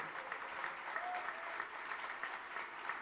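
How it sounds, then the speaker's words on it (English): Steady applause from a crowd at a Governor's House ceremony for Bihar State Formation Day fills the room, an even wash of clapping that continues throughout without a break. "Will now be felicitated by the Honorable Governor with a big round of applause."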